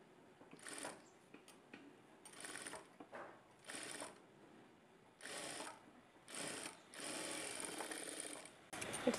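Sewing machine stitching a blouse, running in repeated short bursts with brief pauses between, close and fairly loud, ending in a longer continuous run.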